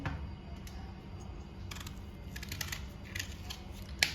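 Mangoes being cut up for pickle produce scattered crisp, sharp cutting clicks and snips in short bursts, close but quiet over a low background hum.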